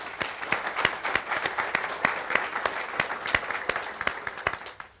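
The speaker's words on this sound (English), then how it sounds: "Let's give everybody a round of applause." An audience at a corporate safety town hall gives a round of applause, steady dense clapping close by that holds for several seconds before tapering off at the end.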